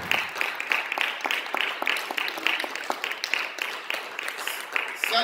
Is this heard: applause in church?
yes